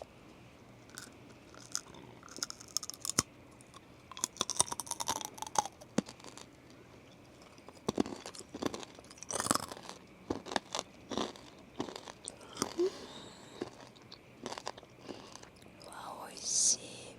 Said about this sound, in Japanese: 甘いの食べたくなったから食べてみます